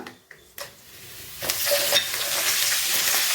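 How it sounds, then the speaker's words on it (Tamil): Curry leaves hit hot oil with popping mustard seeds for lemon rice, a few quiet clicks first, then a sharp burst of crackling that settles into a loud, steady sizzle. "இந்த கருகப்பில்லை இதில் நல்லா முருகலாக வறுக்கணும்"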